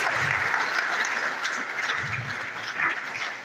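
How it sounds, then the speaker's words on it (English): Audience at a university program launch applauds steadily, a dense wash of clapping hands from a crowded hall, sustained and fairly even throughout with no talking. "another round of applause for the Vice Chancellor"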